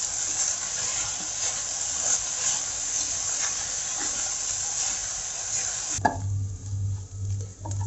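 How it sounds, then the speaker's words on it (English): Ginger and curry leaves sizzle with a steady bright hiss in a pan over low flame for Kerala inji puli, then the sizzle drops away after a clatter as stirring begins, leaving a quieter low hum. "Now let's mix this well till the ginger turns brown color."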